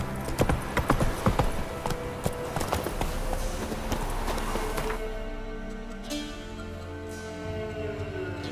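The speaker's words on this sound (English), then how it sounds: "That's it, Roach" A horse in The Witcher 3 video game gallops with rapid, rhythmic hoofbeats, loud and close at first. The hoofbeats fade into softer ambient tones partway through.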